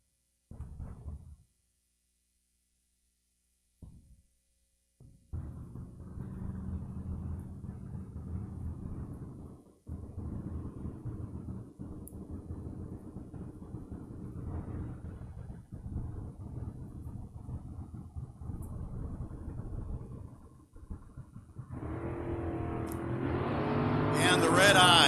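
Drag race cars, a hot rod S10 and an 80 Malibu, launch down the track with a sustained engine roar at moderate distance, and commentary comes in over it.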